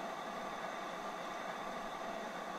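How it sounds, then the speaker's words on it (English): Steam ejector on a Stanier 8F locomotive in Train Sim World 2 on the Great Western Main Line, giving a continuous, even hiss under a bridge. "That sound you can hear is the ejector."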